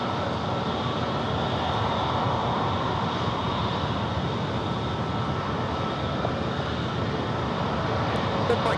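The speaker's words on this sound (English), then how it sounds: "This is that pretty brand new A321neo with United" A brand-new United Airbus A321neo jet at San Diego airport, a steady broad engine roar and rumble holding constant throughout at moderate distance, with no voices.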